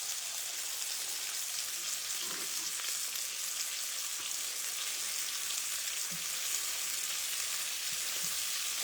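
Pork chops fry slowly in butter in a pan, giving a steady, soft sizzle and crackle with occasional small pops throughout.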